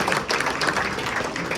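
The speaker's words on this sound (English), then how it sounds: "So I want to give you all a round of applause." An audience at an indoor gathering claps together in a steady, dense burst of applause that lasts briefly and stays even in loudness.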